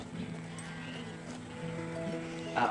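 Sheep on a rural station give a brief, wavering bleat at moderate distance, with faint background noise around it.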